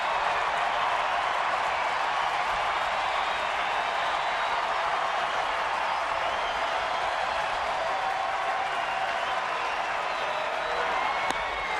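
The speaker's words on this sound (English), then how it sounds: "Listen to this crowd" Crowd at a San Francisco baseball game against Oakland keeps up a steady, dense roar of cheering and clapping throughout, broad and even with no break.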